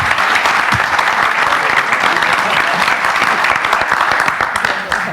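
A seminar audience applauds panelists steadily throughout, dense clapping that holds at an even level and tapers slightly at the end.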